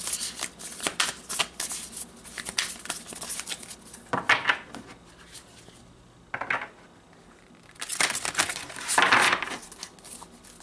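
Tarot cards being shuffled and drawn, heard close up as bursts of rapid riffling and flicking in irregular runs, with short soft pauses between the handfuls and no voice.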